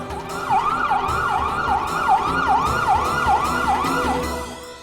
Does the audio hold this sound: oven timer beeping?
no